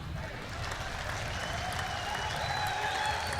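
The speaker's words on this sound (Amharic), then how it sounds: "ለኢየሱስ እልልታችሁን፣ ጭብጨባችሁን፣ ጩኸታችሁን አምጡለት።" A church congregation claps and cheers, a dense continuous wash of applause at steady volume across the whole stretch, with voices mixed into the crowd.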